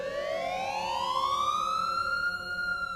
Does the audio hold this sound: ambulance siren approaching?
yes